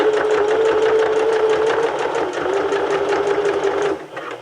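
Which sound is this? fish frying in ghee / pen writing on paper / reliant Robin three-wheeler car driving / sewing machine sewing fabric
sewing machine sewing fabric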